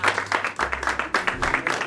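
Applause from a small group of people watching and reacting to a classroom-style quiz game show, a quick run of claps lasting under two seconds, close and moderately loud with no talking over it.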